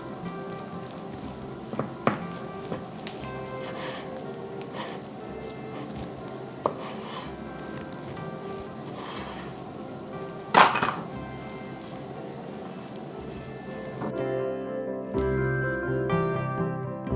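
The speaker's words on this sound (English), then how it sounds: "Then cut each half into 4 strips for a total of 8 strips." A knife slices a rolled tamagoyaki egg omelet into strips on a cutting board, giving a few soft, sparse taps and clicks over quiet kitchen background, with a faint tonal ring near the end.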